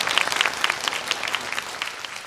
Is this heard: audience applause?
yes